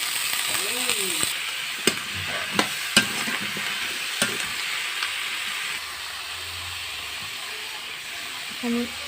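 Green papaya frying in a pan with onion, garlic and green chilli for an Assamese khar curry, a steady soft sizzle with scattered stirring clicks and scrapes near the pan, and no talking.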